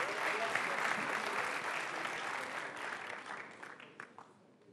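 Sustained audience applause at a student finance congress final, a dense crowd of clapping that holds steady and then thins out and fades toward the end.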